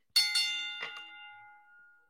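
A bright metallic bell dings sharply, boxing-ring style, struck a few times in quick succession, then rings out and slowly decays.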